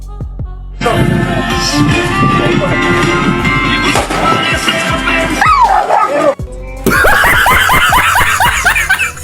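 A dog barks and yelps loudly and close after a firecracker, with sharp repeated barks, whimpering cries and laughter mixed in over a sustained noisy background.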